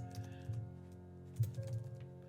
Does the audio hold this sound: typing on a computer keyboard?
yes